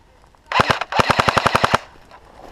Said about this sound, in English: Use the assault rifle.